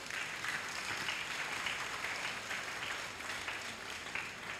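An audience at a memorial lecture claps to welcome a speaker, giving dense, sustained applause at a fairly even level from start to finish, with no voices over it.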